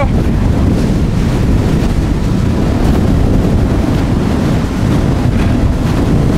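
Strong wind on Krakatau volcano buffets the microphone in a constant roaring rush, loud and close, with a low surf-like rumble underneath and no voices.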